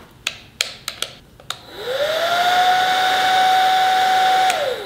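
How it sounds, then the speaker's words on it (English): A weak hair dryer blows on marshmallows and chocolate in a hotel room. A few sharp clicks come first, then the dryer starts up into a steady, close whirring whine that holds for about three seconds before cutting off. "That's a very weak hairdryer."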